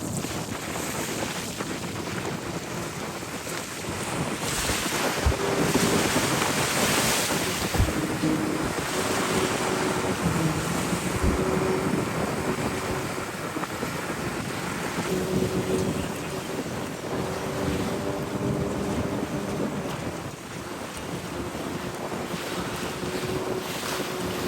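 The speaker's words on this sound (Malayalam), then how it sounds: "നിങ്ങൾ കേൾക്കുമ്പോൾ തന്നെ മനസ്സിലാവും എത്ര പവർഫുള്ളാണ് ആ കാറ്റ് വീശിക്കൊണ്ടിരിക്കണേന്നുള്ളത്." Powerful wind roars over rough open sea from a fishing boat, a constant dense rush with surging waves and a faint engine drone underneath, loud and unbroken throughout.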